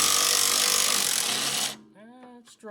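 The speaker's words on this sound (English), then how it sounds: "we'll see if we can pop it out with the old Milwaukee here." A Milwaukee impact tool hammers loudly and steadily at a strut fork bolt on a 2007 Honda Accord, then cuts off abruptly, leaving a voice talking briefly afterward.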